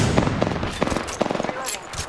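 Rapid bursts of automatic gunfire from an Apex Legends match rattle on continuously, with irregular clusters of close, sharp shots layered over dense battle noise.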